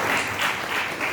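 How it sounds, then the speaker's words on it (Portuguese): A church congregation claps together in a brief, dense burst of steady applause that fills the room. "Palmas para Jesus."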